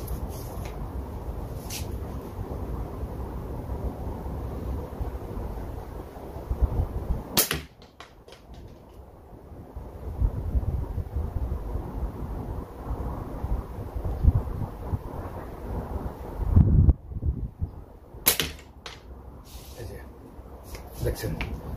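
Slingshot shots fired with GZK rubber bands outdoors, a few sharp snapping releases standing out from steady wind-like background noise, with short gaps between the shots.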